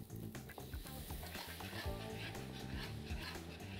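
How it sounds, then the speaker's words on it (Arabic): Cream being poured into a black pepper meat sauce in a pan, with a steady close sizzle and frying crackle throughout, plus scraping and stirring noises over it. "الصوص بتاع اللحمه هاخد كده الكريمه اللي عندي هنا ابتدي ان انا انزل بالكريمه"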